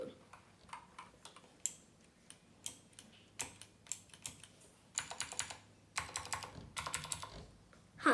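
Key presses on a gamer computer keyboard, a quiet scattered run of sharp clicks that speeds into denser bursts of clacking, close by and without talk.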